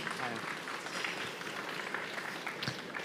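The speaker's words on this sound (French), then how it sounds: "Sous vos applaudissements" Audience applause at an industry trophy award ceremony, a dense steady wash of clapping from a crowd in a hall, moderately distant and continuous for the whole stretch.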